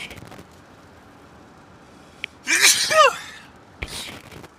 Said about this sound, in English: Oh, sorry, sneezing.